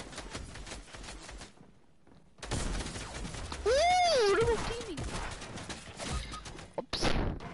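Rifle gunfire in a video game crackles in bursts of sharp shots with impacts and a rising and falling whistle among them, loud and close, while a voice talks over parts of it.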